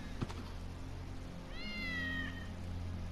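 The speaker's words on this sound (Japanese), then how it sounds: "あ、猫の声だ。 猫だ。" A cat in the Final Fantasy VII Remake video game gives a single faint, drawn-out meow over a quiet hum, with a small click just before it.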